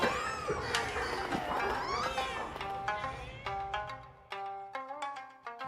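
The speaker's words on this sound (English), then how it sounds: "That cat is so annoying." A cat meows repeatedly in the video game Nioh 3, drawn-out wavering cries mixed with game music and chiming tones, moderately loud and close.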